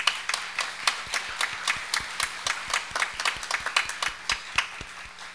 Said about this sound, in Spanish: Quisiera pedir que por favor demos un gran aplauso al personal docente de apoyo de